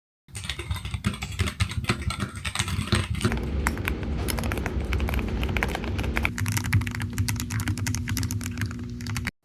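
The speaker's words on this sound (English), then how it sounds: "My home keyboard is not my favorite in terms of sound" Fast, steady typing on a low-latency wireless computer keyboard with an OLED display, on a software engineer's desk: dense, close key clatter that runs without a break, with a low hum joining partway through.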